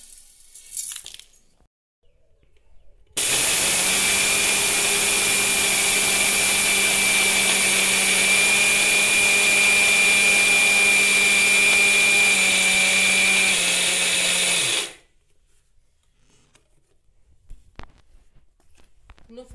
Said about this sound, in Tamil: நம்மளோட ரோஸ்ட் பண்ணி ஆற வச்சிருக்க கிரைன்ஸ் எல்லாம் போட்டு சத்து மாவை அரைச்சி எடுத்துடலாம்